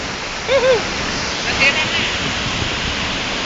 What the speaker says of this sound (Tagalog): Ito ang sinasabi nilang Dawara Falls.